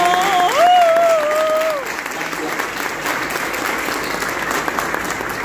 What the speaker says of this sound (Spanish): otra vez un aplauso a todos los que han hecho el esfuerzo de venir